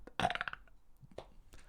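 A single loud, croaking burp from a person, close to the mic, followed by faint small sounds.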